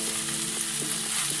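Pre-fried mushrooms tossed into a hot pan for restaurant-style chilli mushroom hiss in a loud, continuous sizzle, with a few soft stirring knocks over a brief moment.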